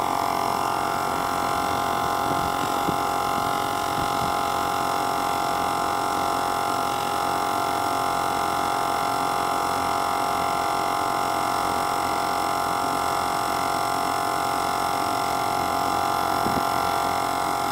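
A Harbor Freight 12V 100psi high-volume air pump runs continuously with a steady, close electric hum and drone that never changes over the whole stretch.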